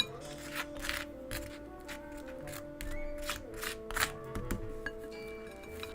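A knife spreads butter across toasted bread in quick, close scraping strokes, a quiet dry rasp repeating in short bursts with no talk.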